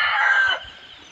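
A rooster on a farm lets out a single loud, close crow that fades after about half a second, with no other sound around it.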